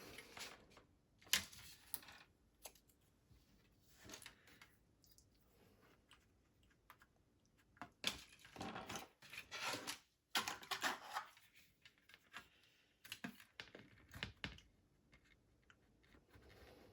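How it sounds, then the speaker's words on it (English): Plastic card being cut into a strip for an Airfix 1/24 P-51D Mustang scale model, heard as a series of close, sharp clicks and snips in bursts with pauses between them, no talking. "I'm going to take some plastic card. I'm just going to cut out a strip."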